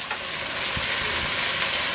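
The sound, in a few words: frying chopped tomatoes in a pan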